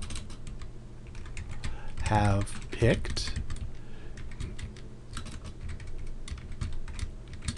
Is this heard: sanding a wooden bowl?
no